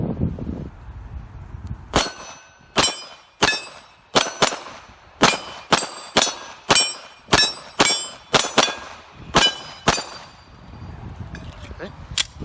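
A 9mm Glock pistol with a Wilson Combat barrel fires a steady string of about fifteen sharp, loud shots at close range, each crack ringing briefly before the next, in an outdoor shooting setting.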